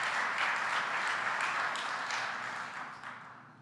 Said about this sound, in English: Can we have a round of applause for our first responders?